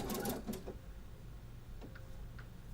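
A sewing machine zigzag-stitches a rolled hem at a 4.5 stitch width, with a short burst of quiet, rapid mechanical stitching close by that stops after under a second, leaving faint clicks and room hum.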